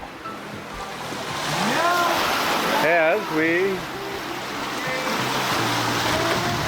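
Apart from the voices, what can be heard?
sailboat at sea crossing the Atlantic Ocean, waves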